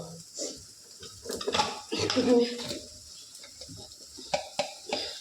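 Food is stirred and fried in a pan, with spoon-on-metal clinks and scrapes and a light sizzle close by, interrupted by bursts of people talking.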